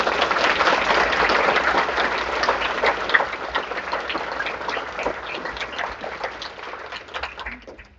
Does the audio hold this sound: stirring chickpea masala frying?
no